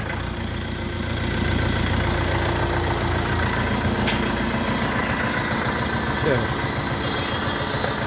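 An Orion RF404 tractor engine idles with a steady, throbbing rumble, and a brief mechanical whine and clunks come from the hydraulics being forced down; no one speaks.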